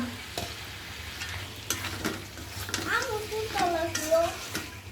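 Green chilies sauté for khichuri while a spoon stirs and scrapes the pot, a steady close sizzle with irregular clanks, and a voice is briefly heard over the cooking.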